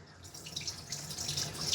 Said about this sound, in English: we're letting the water drop one side, tilting the head to the side